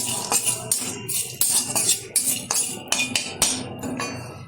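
Whole cinnamon and spices dry-roasted in a metal pan for Odisha-style chicken kosha, with a utensil scraping and clinking against the pan in irregular close, sharp strokes.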